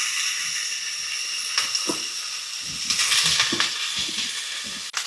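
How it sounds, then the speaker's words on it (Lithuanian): Thin slices of pork belly frying in a hot pan for a Korean-style pork dish, giving a steady close hiss with scattered crackles and pops and no voices. "Į kaitintą keptuvę sudedame šoninę ir gerai ją apskrūdiname."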